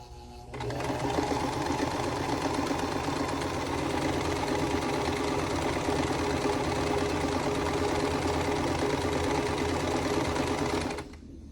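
A domestic sewing machine runs nonstop for about ten seconds, stitching quilt block pieces at a scant quarter-inch seam with a fast, even, close mechanical whir that starts and stops abruptly.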